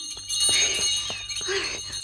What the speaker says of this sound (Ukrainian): Пані Поліано, цей дзвоник означає, що час іди снідати